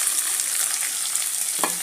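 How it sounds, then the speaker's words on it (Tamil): Onions sizzle steadily in hot oil, close and continuous, with a brief scrape of stirring near the end. "வெங்காயத்தையும் கொஞ்சம் நல்லா வதக்கிட்டுருக்கேன்"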